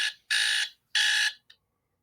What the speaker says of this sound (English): Sorry, my alarm.